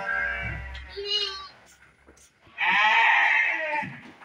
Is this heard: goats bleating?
yes